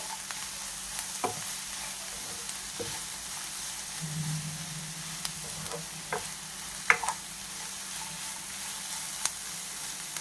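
Ground paste fries in a pan for avarekalu chitranna, a soft low sizzle broken by sporadic clicks and taps of a spatula stirring against the pan, close and quiet, no voices.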